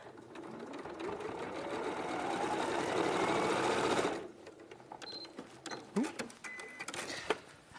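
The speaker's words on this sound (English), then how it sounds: "sew to the next intersection" A sewing machine stitches quilt seams in one steady, close run of about four seconds, then stops; afterward come soft clicks and fabric handling, with some light talking.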